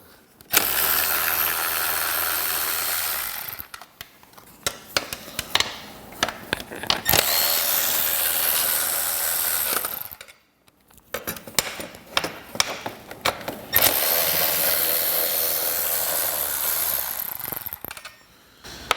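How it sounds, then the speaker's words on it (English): Allen head bolts being loosened with a 3/16 hex tool from a speaker pod on a Boom audio system, giving close, loud stretches of tool and mechanical noise in three bursts, separated by short clicks and taps. "now we're just going to remove the 3 perimeter Allen head bolts"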